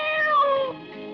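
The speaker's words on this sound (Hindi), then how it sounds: "अरे बिल्ली?" A single cat meows once, clear and close, a drawn-out tonal cry that bends in pitch and tapers off after about a second.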